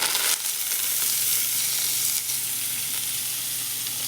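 Gooseberries, green chillies and curry leaves fry and get stirred in a hot pan for gooseberry rice, giving a steady, close, bright sizzle throughout.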